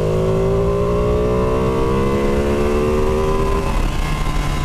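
A Ducati Panigale V2 motorcycle engine revs hard on a wet ride, a loud rising exhaust note climbing steadily close up, then easing off near the end, with no voices.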